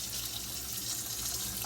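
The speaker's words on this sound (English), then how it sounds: "To make sure the water's off, we're going to go ahead and just turn on the faucet." Water running steadily from a faucet while an old toilet's flow valve is being replaced, a continuous close hiss of flow with no voices.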